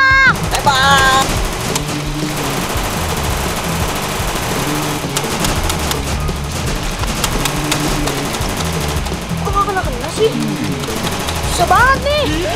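Gunfire effects crackle in a real-life Free Fire style zombie shooting skit, loud bursts mixed with engine-like rumble and music, while voices shout and talk over it.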